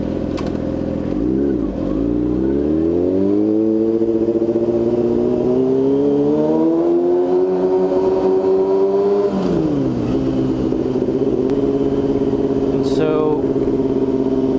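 A Yamaha R6S sport motorcycle fitted with a cone-style M4 aftermarket muffler revs loudly and close, climbing steadily in pitch, holding high, then dropping and settling back near idle.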